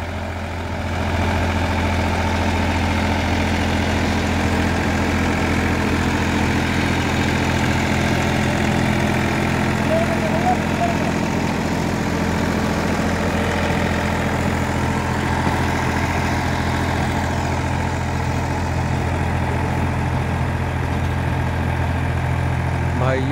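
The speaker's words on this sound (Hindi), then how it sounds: "भाइयों बहुत बढ़िया चल रहा ट्रैक्टर," A Massey Ferguson 245 DI 50 hp tractor works a field pulling a rotavator, its diesel engine holding a steady, loud, close low rumble without a break.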